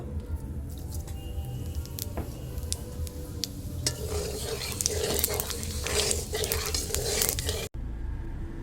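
Whole cumin seeds sizzle in a pan of hot oil, reused from frying potatoes, a steady close crackle that builds and brightens midway, with a few light utensil clicks, and then a quieter hiss.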